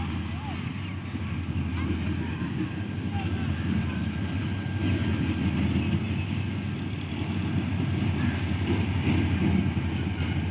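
Old GMU 30 diesel locomotive hauling a goods train onto the loop line at Sanawan, a steady low engine rumble with broadband rolling noise throughout, continuous and fairly loud without clear speech.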